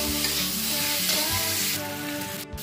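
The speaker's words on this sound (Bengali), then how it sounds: "টমেটো আর লঙ্কা দেওয়ার পর আবার মিনিট খানেক কম হাতে ভেজে নেব।" Capsicum, onion, tomato and green chilli fry in a pan with a steady, close sizzle and crackle that holds through the whole stretch without any talk.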